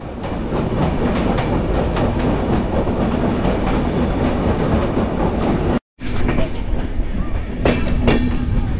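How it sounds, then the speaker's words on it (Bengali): The Sagordari Express rolls into Alamdanga railway station, a loud, continuous rumble with clattering wheels and faint squeals, briefly cutting out near the middle before resuming. "1 মিনিট বিলম্বে সকাল 8:30 আমাদের ট্রেনটি আলমডাঙ্গা রেলওয়ে স্টেশন প্রবেশ করলো।"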